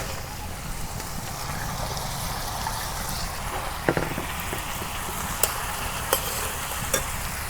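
Spices tempered in hot oil in a pan over a village fire, a steady soft frying hiss with a few sharp crackles and pops near the end, no talking.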